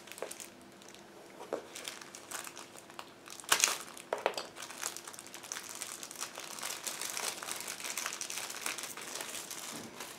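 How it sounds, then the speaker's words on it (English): Crinkly plastic bag being unwrapped from a cockpit-parts sprue of a Tamiya 1/48 F-14A Tomcat model kit, a close, steady run of rustling and crackling with a few sharper crinkles. "Just give me a second again to unwrap it."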